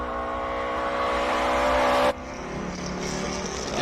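A well set-up classic Datsun race car on non-standard tyres powers up a hill climb course, its engine loud and close with a sustained roar, then an abrupt drop in pitch and level as it shifts or passes, continuing more distantly.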